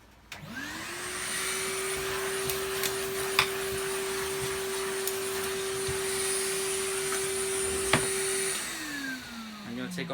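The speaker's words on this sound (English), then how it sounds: "Let me give it a quick vacuum." A rare German Fakir 350 vacuum cleaner starts up, runs with a steady loud motor whine and airflow roar for several seconds, then winds down, with a few clicks and knocks and no speech.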